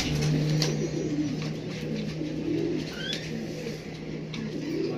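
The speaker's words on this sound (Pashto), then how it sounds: "ماما یې کوتر به څو دی؟" A pigeon offered for sale coos nearby in soft, low, repeated calls over a steady background hum, with no talk.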